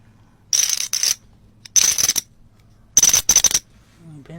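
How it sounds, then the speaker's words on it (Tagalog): Coins drop and clatter against a hard surface in a series of sharp, bright metallic bursts, several separate drops with brief ringing, close and loud. "Coin."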